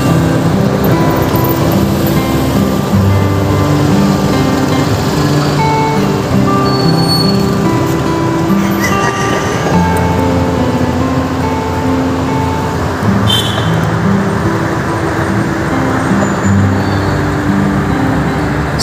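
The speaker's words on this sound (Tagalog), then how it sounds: "Traffic na dito, no?" Road traffic on the NLEX expressway near Balintawak, a loud, steady drone of cars, trucks and buses with engine tones rising and falling as vehicles pass close by, and a brief sharp squeal partway through.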